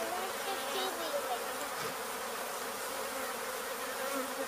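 A honey bee swarm in Weslaco, Texas buzzes in a dense, continuous drone close by, steady throughout with no pauses.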